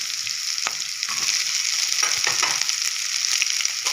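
Chopped onion and capsicum fry in a pan with a loud, steady hiss and crackle, while a spoon stirs through them in several short scraping strokes close by.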